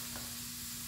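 A steady, soft sizzle of bacon and onions frying in a hot pan, a constant crackling hiss with a faint low hum beneath it.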